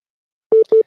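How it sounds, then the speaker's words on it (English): An electronic phone ring sounds on a live call-in show as two short, evenly spaced tone bursts, near and clear, with no talking. "All right, now stop that dang ringing, Chad."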